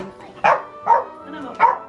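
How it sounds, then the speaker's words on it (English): A dog barks three times in short, close, evenly spaced yips and woofs, with brief pauses between them. "Bark once if yes, bark twice if no."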